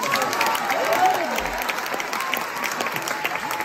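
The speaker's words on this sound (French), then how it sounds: "Je voudrais aussi qu'on applaudisse très très fort" Brief applause and some cheering from a theatre audience for the musicians at a gala concert, dense clapping that eases off slightly toward the end.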